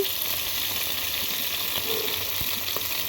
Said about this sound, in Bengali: এগুলা পোয়া মাছ ভেজে নিচ্ছি তরকারি রান্না করার জন্য